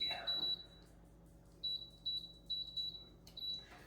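An air fryer gives a string of short, high electronic beeps in quick succession as its temperature is set to 370 degrees, clear against a quiet room.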